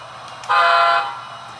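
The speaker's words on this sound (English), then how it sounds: "Give it one honk." A locomotive in a rail yard gives one short horn blast of about half a second. The horn is loud and tonal and rises over a low idling rumble that carries on after it.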